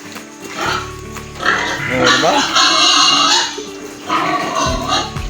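Pigs grunt and oink loudly and close by while feeding, with overlapping squeals and snorts, as someone talks over them.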